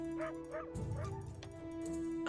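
Dogs in the game Solstice bark and whimper nearby, giving a few short yips and whines over a steady background hum, with no talking.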